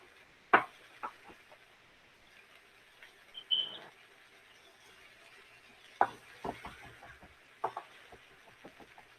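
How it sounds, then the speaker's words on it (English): A knife rough-chops garlic on a cutting board in a cooking class, making sparse, irregular wooden knocks, some single and some in quick little clusters, close and fairly quiet. "doing a quick rough chop before we start mincing it."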